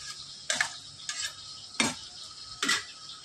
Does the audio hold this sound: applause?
no